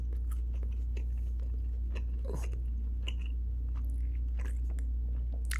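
Close, soft chewing of a bite of cooked steak, wet crunching and mouth sounds at an uneven pace over a low steady hum, with no talking.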